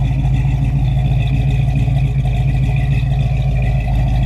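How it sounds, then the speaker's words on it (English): A 1973 Dodge Challenger with a 340 V8 and new dual exhaust idles close by, a loud, steady, deep burble with a rapid, even pulse and no talk over it. "That new dual exhaust sounds great also. I mean, this 340 runs hard."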